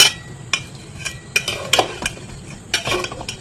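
Cauliflower tossed and stirred in a pan, with irregular close metallic clinks and scrapes of a utensil against the pan over a faint sizzle.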